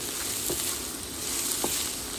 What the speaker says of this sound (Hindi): 3 से 4 मिनट लगेंगे बस प्याज भूनने में।